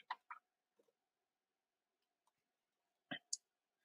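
A computer mouse clicks faintly in a quiet room: a few sharp, isolated clicks spaced unevenly, with a close pair near the end and near silence between them.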